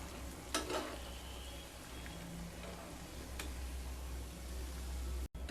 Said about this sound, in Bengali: দুটো সাইড খুব ভালো করে ভেজে নিয়ে তারপর ফিরে আসছি।